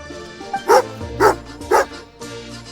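A dog in a video game gives three evenly spaced, bright barks, close and clear, over a quiet game background.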